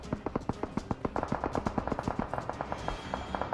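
Rapid bursts of automatic gunfire in a video game crackle continuously, sharp repeated shots in quick succession with a few heavier pops mixed in.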